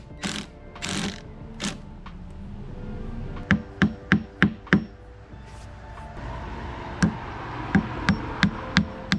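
Screws are driven and plugs set along the outside edge of a composite decking picture-frame border, heard as sharp, close knocks and tapping in quick bursts, with a few softer scrapes in between.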